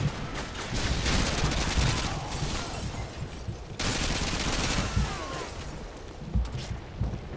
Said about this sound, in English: I think that fragged worked pretty nicely, yeah.